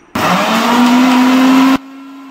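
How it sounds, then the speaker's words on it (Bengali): A mixer grinder whirs loudly and close for under two seconds, blending potatoes into a paste for dosa, starting and stopping abruptly. "মা ওখানে আলুগুলোকে পেস্ট করছে"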